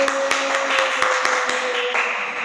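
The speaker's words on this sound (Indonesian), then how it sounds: "tepuk tangan buat Ubaidillah" A classroom claps for a student in a steady, rhythmic beat of sharp hand claps over a constant background hum, with no talking during it.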